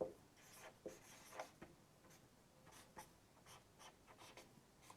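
Writing on a board in a physics lecture: a faint series of soft tapping and scraping marker strokes, close and quiet, with no speech.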